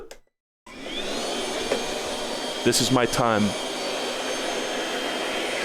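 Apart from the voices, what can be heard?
vacuum cleaner running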